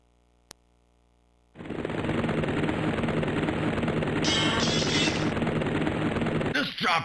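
An attack helicopter in Virtua Cop opens up after a single sharp shot and a moment of quiet, bringing a loud, steady machine-gun roar mixed with rotor drone that keeps going for several seconds.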